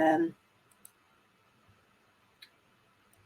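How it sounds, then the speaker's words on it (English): A computer mouse gives a few faint, sharp isolated clicks, spaced well apart, while a new preloaded area opens in a webinar; a brief voice is heard at the very start. "just clicking on a new preloaded"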